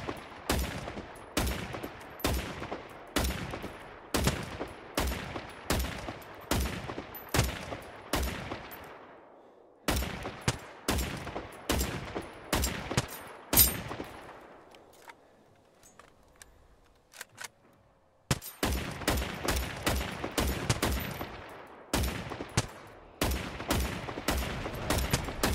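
Gunfire in Generation Zero hammers at a large robot's rocket pod: rapid, sharp, close shots in steady bursts. The shooting fades into a brief lull, then resumes just as dense.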